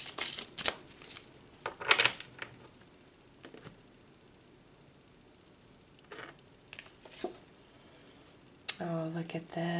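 Tarot cards being shuffled by hand, with several quick riffling bursts early on, a pause, then more shuffling, while someone talks quietly.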